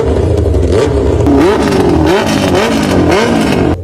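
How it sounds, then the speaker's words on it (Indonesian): A loud Yamaha Aerox scooter engine revs up and down repeatedly close by in Malaysia, rising and falling whines in quick succession with no speech. "kita bakal dengarkan suara motor Aerox di Malaysia"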